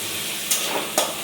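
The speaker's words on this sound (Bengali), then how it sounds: "এবার আমি এই মশলাটা ভালো করে কষিয়ে নেব।" Spices and vegetable masala frying in a pan for litti chokha, with a steady soft sizzle and two brief scraping stirs, no voices.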